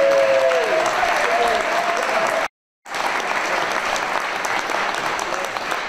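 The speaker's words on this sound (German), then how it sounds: "jetzt hätte ich gerne einen richtigen großen Applaus" Steady, loud applause from a brass-band festival audience in Bad Waldsee, greeting the band's conductor, with a brief sharp dropout in the middle.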